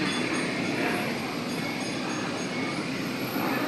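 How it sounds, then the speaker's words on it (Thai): A train runs toward Siam Paragon station in Bangkok as a steady, broadband rumble and hiss with a faint metallic whine, even in loudness and with no voices. "รถไฟกำลังวิ่งเนาะ จะก็มาจอดอยู่สถานีสยามพารากอนนี่แหละท่านผู้ชม"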